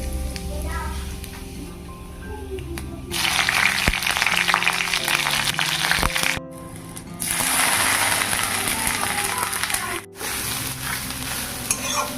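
Beetroot frying in a pan with nigella seeds and dried and green chillies gives a loud, dense sizzle in long bursts as it is stirred, with brief breaks and scraping between bursts.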